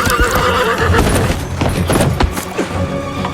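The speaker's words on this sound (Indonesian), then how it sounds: "Chifa mengirim ayahnya pulang ke kerajaan Shiki menunggangi kuda naga salju" Snow dragon horse neighing loudly with clopping hooves, a steady layered stream of whinnies and hoofbeats close by, with no talk.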